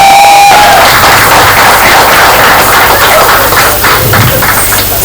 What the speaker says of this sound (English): Please welcome all our panelists with a huge round of applause